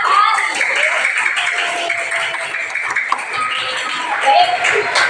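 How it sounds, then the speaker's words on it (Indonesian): A class of young pupils claps hands together in a classroom lesson, a lively burst of clapping with chatter and voices mixed in, holding fairly level before easing slightly. "Tepuk tangan untuk kita semua."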